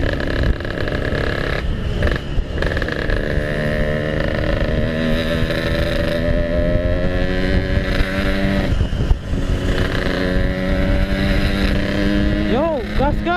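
A Yamaha RX King two-stroke motorcycle drones loudly while being ridden, its engine pitch rising and falling through throttle changes with wind rush over the microphone and a rider speaking over it.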